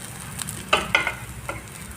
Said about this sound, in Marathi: तर आपण असं याला हळूहळू पलटून घेऊयात थोडंसं जर तुम्हाला वाटलं तर वरतून थोडंसं तेल सोडलं